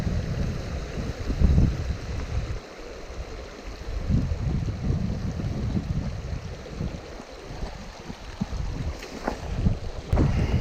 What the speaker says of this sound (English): There's a lot of wind around.